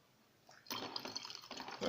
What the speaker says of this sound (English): I'm going to pour more water on this